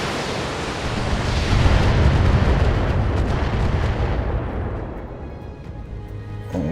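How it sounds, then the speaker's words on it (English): LRM missile salvos firing and exploding in the BattleTech game, a loud, dense roaring barrage of blasts that swells and then slowly fades. "They are firing a lot of LRMs."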